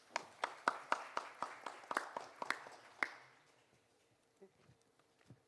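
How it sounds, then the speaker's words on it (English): Scattered, sparse clapping from a panel audience at the World Bio Summit 2025, about a dozen distinct claps over three seconds before fading into near silence with a few faint thumps. "Let us welcome our moderator with a big round of applause."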